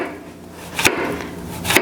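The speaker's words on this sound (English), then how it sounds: "chop up some of our zucchini. So I'm just gonna cut these into rings and fry them." A knife chops zucchini into rings on a board, two sharp close knocks about a second apart over a faint background hum, with no talk.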